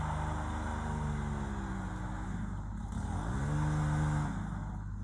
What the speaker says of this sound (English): You can see the power broom machine he's using.